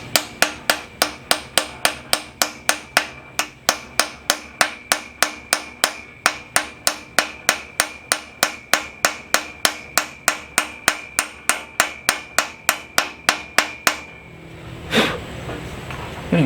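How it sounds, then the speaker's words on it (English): A pilot bearing is hammered into place during an engine install, with an oversized socket over it as a driver: about forty sharp metallic blows in a steady, even rhythm, close and loud, ending in a brief shuffle. "I took an oversized socket that is bigger than the bearing, so we don't damage the bearing, and we'll just hammer it in"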